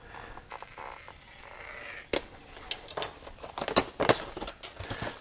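Cutting open and handling a heavy freeze-dried beef stew pouch from 2017 produces close, irregular crinkling and crackling of thick plastic, scattered sharp rustles building into a denser cluster of loud crumples near the end.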